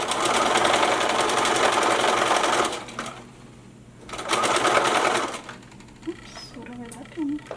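A sewing machine stitches a dress neckline at five-eighths of an inch from the raw edge, running loud and close in two long bursts with a pause between and light handling noises after.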